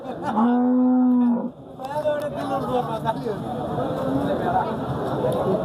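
A dairy cow at a cattle market gives a loud, long, close moo, followed by a busy market hubbub of voices and movement, with people talking.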